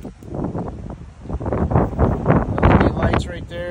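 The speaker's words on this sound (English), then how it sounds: "It's a little bit windy out here, so if you can hardly hear me, I apologize about that." Strong wind gusts outdoors around a 2022 Ford F-150 Raptor pound the microphone in loud, rumbling surges that rise and fall. A voice is partly buried underneath.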